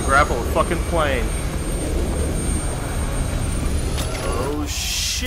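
Aircraft roar from a jet passing over a Call of Duty: Advanced Warfare combat scene, a steady loud rumble with a whine above it, heard under bursts of shouted talk.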